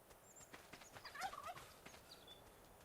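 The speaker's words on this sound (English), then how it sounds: "Turkey. Evil turkeys." Turkey gobbling in the video game ARK Survival Evolved, a quiet rattling call with brief gobbles over soft ambient game noise, no voices.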